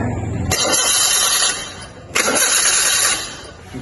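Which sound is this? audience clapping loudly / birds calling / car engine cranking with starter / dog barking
car engine cranking with starter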